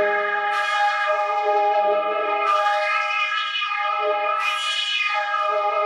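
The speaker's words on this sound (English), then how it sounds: "And the vocoder on it sounds like this." Synth in Ableton Live run through a vocoder effect, three long swelling tones with sweeping bright edges, each re-attacking about every two seconds over a steady harmonic drone; loud, close and alone.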